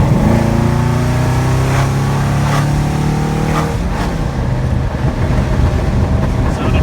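A 1976 Mercedes 240D diesel drives along with a steady, close engine drone and road noise, its pitch holding and then shifting as it changes speed.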